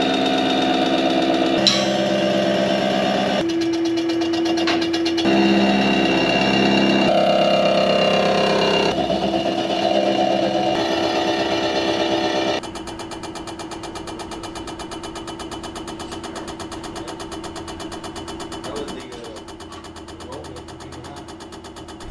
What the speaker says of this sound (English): So we use this shell mill to kind of save our fly cutter and use these cutters, and we'll take it nice and slow.